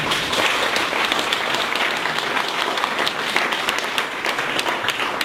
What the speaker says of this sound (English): Let's give another round of applause for Bud.